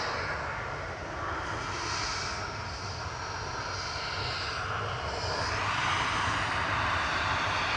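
A Ryanair Boeing 737 MAX 8 jet arrives at Manchester Airport, its engines a steady, fairly distant roar that swells slightly toward the end, with no talk.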